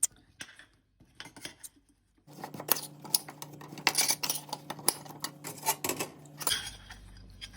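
Peanut rolls swirled through caramel in a pan, giving scattered clinks and scrapes of metal on metal with a low steady hum beneath, near and moderately loud after a quieter start.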